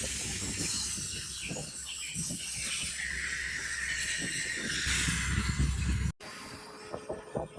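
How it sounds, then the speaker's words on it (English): Steady broadband spray hiss as water rinses the coil of a Carrier central air heat pump, working from the inside out, continuous and fairly loud before cutting off abruptly near the end, followed by quieter bumps. "now we're going to rinse out our coil, working from"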